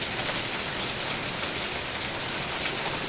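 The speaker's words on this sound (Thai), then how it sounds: "บรรยากาศพาลงฝนตก" Steady morning rain falls outdoors, a dense, even hiss of drops on surfaces holding constant throughout with no other sounds.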